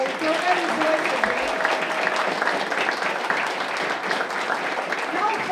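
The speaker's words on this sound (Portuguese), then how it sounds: "Eu quero começar minha fala pedindo uma salva de palmas na pessoa do Eric, para todo o pessoal que organizou esse" A crowd at a nighttime youth political rally in São Paulo applauds the event organizers: sustained, broad clapping with scattered voices and cheers mixed in, filling the space at a steady level.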